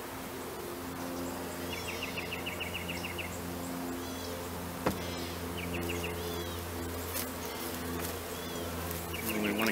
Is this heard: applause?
no